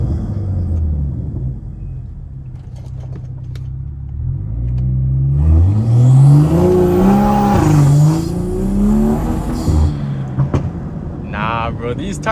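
A car engine revs hard during a launch control start, the pitch climbing and falling in loud, close surges over a rumbling base, ending with a burst of high whine.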